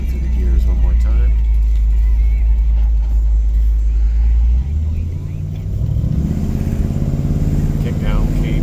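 The engine of a 1964 Ford Thunderbird runs as the car moves through its gears, with a loud, steady low drone that dips briefly and then rises again into a busier rumble as it picks up, heard close and without talk.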